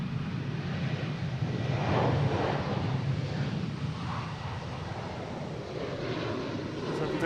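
Engine roar of a United Airlines Boeing 737 at Boston Logan airport, a broad steady rumble heard from a distance outdoors, mixed with wind noise and continuing throughout.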